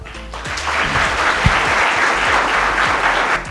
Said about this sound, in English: I expect you to do a stronger clapping